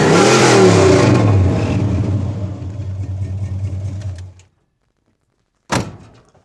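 A 1970 Plymouth Sport Fury GT engine roars loudly while revving hard to blow water from its exhaust, then winds down and cuts off abruptly, followed after a pause by a short sharp knock.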